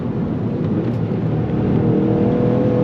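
A Toyota GR Yaris at full throttle on a race track, its engine a loud, dense, continuous roar that builds slightly in strength, heard from inside the car with no talking.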